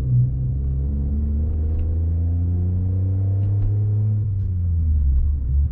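A Skoda Fabia hatchback accelerates after a downshift, its engine note heard from inside the car as a steady, loud low rumble with rising harmonic tones that shift as revs change.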